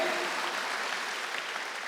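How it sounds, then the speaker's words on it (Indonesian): A church congregation at an online worship service applauds and cheers, dense sustained clapping filling the room evenly from start to end. "Berikan sorak-sorak bagi Allah kita, haleluya."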